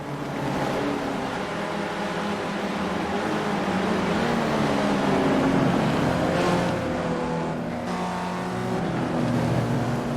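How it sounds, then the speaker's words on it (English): A race car engine revs in a racing video game as a driver takes a keyhole corner in second gear; a steady, loud motor drone with harmonic pitch shifts runs throughout the clip, without talk. "One driver is using 2nd gear on the keyhole. Can hear the engine rev up a bit."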